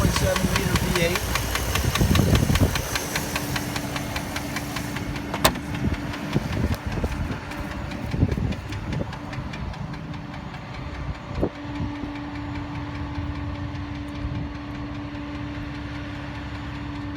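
A 2005 Dodge Durango four-wheel-drive with a 4.7 liter V8 idles steadily with a knocking engine, a continuous close rumble throughout, with a few brief clanks over the drone.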